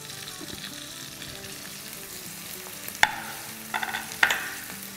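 Chopped onion drops into a pan of frying garlic, giving a soft steady sizzle with a few sharp clattering bursts, set under background music.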